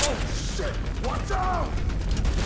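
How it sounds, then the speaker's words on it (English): A weapon is reloaded in Left 4 Dead 2 with a string of close, clicking and ratcheting mechanical sounds, while faint tonal noises run underneath. "Hey, I'm reloading."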